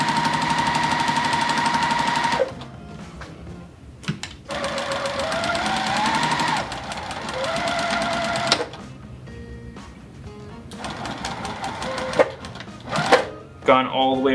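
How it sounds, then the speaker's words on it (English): A sewing machine stitches down the sides of a fabric scrap bag in loud, fast runs of mechanical chatter, separated by pauses and small clunks, while someone talks. "So what I like to do is only sew down two sides of the bag."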